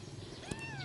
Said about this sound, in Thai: เจ้าแมวเหมียวน่ารักมากตัวเล็กน่ารักมากเนี่ยปีนหน้ามาแล้วมาเข้ากล้องแล้ว